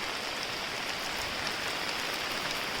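Heavy rain pours down steadily in a village, a dense, even patter on surfaces with no voices or other sounds over it.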